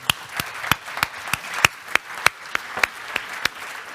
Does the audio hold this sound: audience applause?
yes